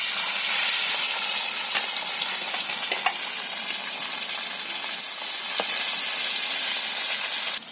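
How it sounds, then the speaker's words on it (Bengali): Pieces of silver carp coated in turmeric, salt and chili sizzle loudly in hot oil, a dense, steady frying hiss that continues without a break, with a few faint clinks and no talking. "মাছগুলো হলুদ লবণ মরিচ দিয়ে মেখে রেখেছিলাম, তো এখন গরম হয়ে গেছে তেল। তেলে দিয়ে দিই বিসমিল্লাহ।"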